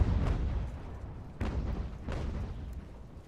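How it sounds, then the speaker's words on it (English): Artillery booms in Ultimate General: American Revolution come as three distant, dull thuds spaced about a second apart, each followed by a rumbling decay, with no talk over them. "I'm trying to focus a bunch of artillery on this enemy battery."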